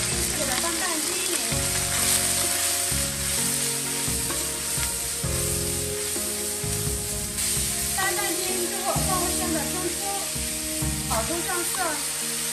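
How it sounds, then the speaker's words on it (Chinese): Pork and celery stir-fried in a wok, a steady sizzle and hiss running the whole time, with irregular clatters of stirring and what sounds like music underneath. "把猪肉煸炒至骨皮状，放入芹菜"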